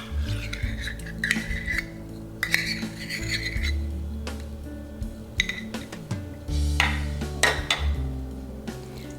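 Egg and mayonnaise mixed in a bowl, with a utensil clinking and scraping against the bowl in a steady, busy clatter, heard alone without talk.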